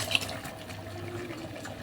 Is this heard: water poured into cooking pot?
yes